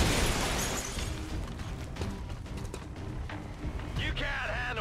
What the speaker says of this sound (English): And the explosion didn't hurt anyone.